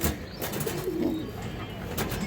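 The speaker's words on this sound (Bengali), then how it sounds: "একটা মাক্সি মাদি কবুতর, এই যে দেখেন একটা মাক্সি মাদি, গিরিবাস মাক্সি দর্শক।" A female Maxi Giribaz pigeon coos in a low, soft murmur over a busy, steady background hubbub, close by but partly masked.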